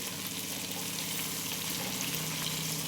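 Curry leaves and chillies tempering in hot peanut oil, a steady dense sizzle and crackle of frying that runs without a break, close and even in level with no voices.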